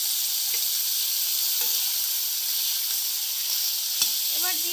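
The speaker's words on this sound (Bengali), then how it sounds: "এবার আমি এর মধ্যে চিকেনটা দিয়ে দেব" Minced boneless chicken fries in hot oil with a steady, loud sizzle throughout, broken by a few soft scraping stirs and one sharp knock near the end.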